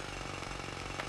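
Dense, continuous mechanical clatter and rumble of a construction site in the video game Kingdom Hearts II, steady and loud throughout, with rapid hammering pulses like power tools or a jackhammer.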